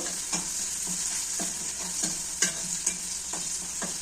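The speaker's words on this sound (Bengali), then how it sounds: "একটি কড়াইয়ের মধ্যে পেঁয়াজ কুচি, রসুন থেতলে নিয়েছি আর গোটা পায়ে শুকনো মরিচ ভালো করে ভেজে নেব" Chopped onion, crushed garlic and whole dried chilies fry in a wok with a steady close sizzle, broken by a regular rhythm of spatula scrapes and stirring knocks.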